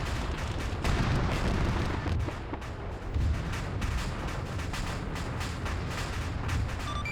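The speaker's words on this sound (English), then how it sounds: "I can't hear you over the shots." Heavy gunfire in a WWII-style multiplayer combat game with airborne troops and German armor, continuous dense volleys and booming shots filling the whole stretch at steady loudness.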